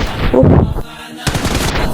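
Gunfire in the video game PUBG, a loud burst of shots followed by a short gap and then a second burst, close and dense, with no talk.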